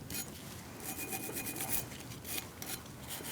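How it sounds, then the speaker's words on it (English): Wire brush scrubbing surface rust off rear brake parts of a 2016-2019 Chevrolet Cruze, a rapid series of raspy scraping strokes at close range, steady and fairly quiet, with no voices. "Just going to get any surface rust that might be there too. My wire brush."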